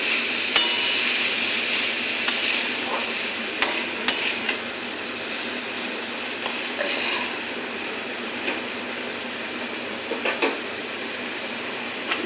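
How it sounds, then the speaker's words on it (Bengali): Pumpkin leaves and sweet pumpkin are stirred through plenty of hot oil in a pan over lowered gas, with scattered scrapes and taps from the utensil over a continuous oil hiss and no voices. "গ্যাসটা কমিয়ে সবজিটা মিশিয়ে নিই"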